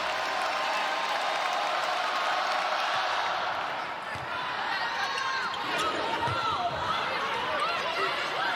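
An arena crowd roars at a women's college volleyball match between Minnesota and Oregon. The noise is loud and sustained, with occasional ball thumps, and a commentator talks over it.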